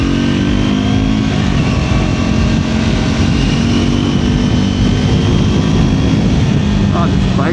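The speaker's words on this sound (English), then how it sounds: "This bike just sounds so nice." Triumph Scrambler 400 XC motorcycle engine droning steadily while being ridden, a loud continuous hum with rushing wind noise throughout and no speech.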